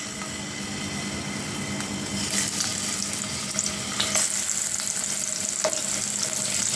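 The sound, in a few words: boal fish frying in hot oil in a pan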